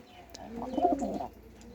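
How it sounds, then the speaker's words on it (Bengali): A caught pigeon gives a short, soft, throaty coo close by, a single rolling call rising and falling over under two seconds in an otherwise quiet space. "তো এই হচ্ছে ধরা কবুতর"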